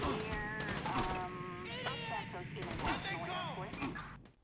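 Bursts of police gunfire in GTA 5, sharp shots and rapid volleys scattered through the scene, heard alongside talking voices and tonal game effects.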